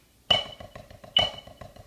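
A drum kit plays sixteenth-note triplets in a drum lesson, with two accented cymbal-and-drum hits followed by quick, even, quieter strokes in a steady rolling pattern, close and moderately loud.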